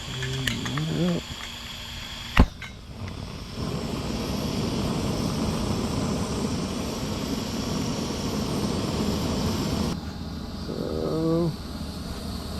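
The gas burner of a DIY disc cooker roars with a steady, broad rushing noise for several seconds. A sharp click comes just before it builds, and a few faint tonal sounds occur at the edges.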